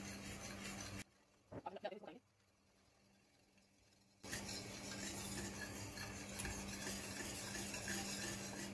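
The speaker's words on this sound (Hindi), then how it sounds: "इसको आहिस्ता आहिस्ता इसमें डालेंगे और हिलाते जाएंगे ताकि गुठलियां ना बने अंदर।" A spoon scrapes and swirls through orange juice pudding as cornflour mixture goes in, a steady close stirring texture that drops away mid-clip, with a brief voice in the quiet gap before the stirring resumes.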